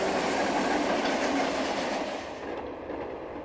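A model railroad train led by a Union Pacific 5075 unit, running as a manifest freight, rolls past with a steady, fairly loud rumble and rhythmic clatter of wheels on track that eases slightly toward the end.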